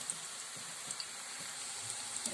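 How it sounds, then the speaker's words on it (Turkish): Potato patties fry in a hot pan with a faint, steady sizzle and scattered soft pops and crackles close by, with no talking. "diğer tarafını da çevirip diğer tarafını da kızarmaya bırakacağım"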